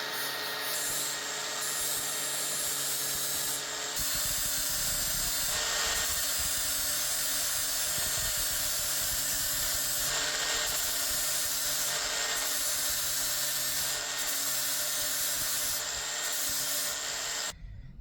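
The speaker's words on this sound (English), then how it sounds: "now after we've sanded it flat, it will now sit flat within the groove." Steady, continuous rubbing of sandpaper on a rivet of an AK II tufting gun to flatten it, a close, even abrasive scraping that runs for the whole stretch.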